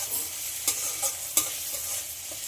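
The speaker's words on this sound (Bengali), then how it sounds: "আদা রসুনের যতক্ষণ না কাঁচা গন্ধ চলে যায় ততক্ষণ একটু ভেজে নিতে" Ginger and garlic paste sizzling in a pan while being fried until the raw smell goes, with a steady frying hiss and a few sharp stirring scrapes at irregular moments, close and moderately quiet.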